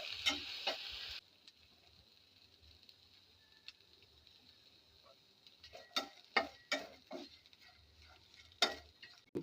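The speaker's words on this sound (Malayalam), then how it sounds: "ഇനി ചെമ്മീൻ ഞാൻ വറക്കാൻ പോവുകയാണ്." Prawns, washed and drained, fry in a pan for a chammanthi: a dense sizzling hiss at the start, then quieter spitting with scattered sharp crackles and pops, close to the mic.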